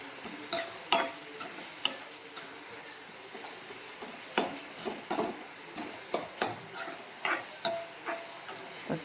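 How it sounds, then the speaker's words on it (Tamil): Tomatoes, onions and dried red chilies are sautéed in a pan, with a faint sizzle under a string of sharp spatula taps and scrapes against the metal, irregular but frequent, close by and unaccompanied by speech. "எல்லாத்தையும் நல்லா வதக்கி விடுங்க."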